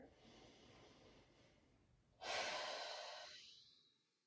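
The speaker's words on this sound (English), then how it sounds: "Take a deep breath here." During a yoga stretch, a soft, slow inhale leads into a louder, breathy exhale through the nose that fades gradually, close and quiet.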